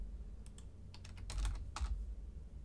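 Keystrokes on a computer keyboard as numbers are typed into Blender during a geometry nodes tutorial: irregular clusters of crisp, close clicks with short pauses between them and no talking.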